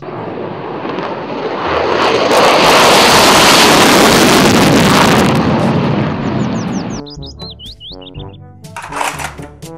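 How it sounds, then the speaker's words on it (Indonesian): A fighter jet roars loudly, swelling to a powerful rush and fading away, followed by a short playful electronic jingle. "Pesawat jet tempur."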